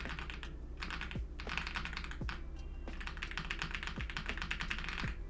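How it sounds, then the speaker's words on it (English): Quick, close computer keyboard typing clatters in bursts, with a steady low hum underneath and no speech. "your keyboard sounds exactly like shaking a spray can graffiti"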